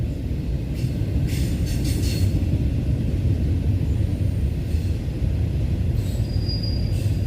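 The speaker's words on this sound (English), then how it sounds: "Stop the fucking train!" A train rolls past close by with a heavy, continuous low rumble, and thin metallic wheel squeals rise now and then over the roar.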